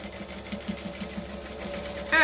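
A home sewing machine runs a steady, moderately loud stitching hum along a camera bag seam, with faint rhythmic needle thumps and a louder surge at the end, and no talk over it.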